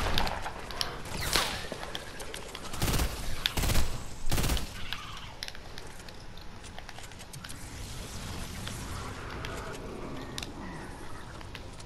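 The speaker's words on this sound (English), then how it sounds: "We're getting shot at." Gunfire in a Fortnite match, several sharp shots near the start and a cluster of loud cracks around the middle, then fainter mechanical clatter and scattered distant shots.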